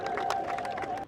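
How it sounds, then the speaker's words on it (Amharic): At an outdoor church gathering, a crowd claps in a quick, rhythmic patter for a brief moment, with a sustained musical tone beneath it. "አጨብጭቡ ለኢየሱስ።"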